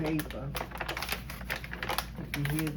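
Paper rustles and crinkles in quick, irregular bursts close up as it is handled during adhesive crafting, with a voice talking over it.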